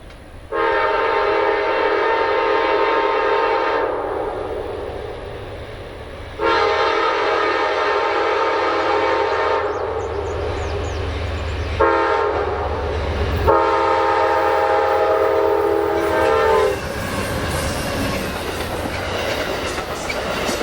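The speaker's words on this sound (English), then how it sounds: "we see the northbound Crescent making surprisingly good time at Jackson Trace Road" Amtrak's northbound Crescent passenger train passes at speed near a road crossing, with loud sustained horn blasts sounding in several long bursts over a rumbling rail roar and clatter.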